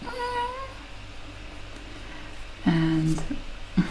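A voice mimics a newborn baby's small kitty-like mewing cries, a few short high squeaks near the mic, with a quieter breathy stretch between them.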